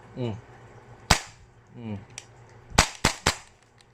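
Tokyo Marui MWS airsoft rifle firing, with a handful of sharp close snaps in short bursts and single shots, between brief bits of talk.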